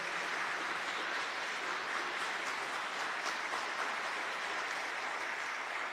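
Applause from a crowd gathered for a Catholic talk on consecration to the Virgin Mary, a steady, fairly distant wash of clapping that continues evenly throughout without any voices on top.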